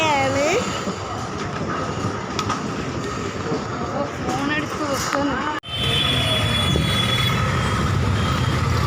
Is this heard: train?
yes